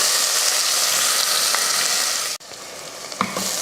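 Two large onions sizzle and fry steadily in hot oil with cloves, cinnamon, cardamom and curry leaves, a continuous close crackle with a brief stir near the end.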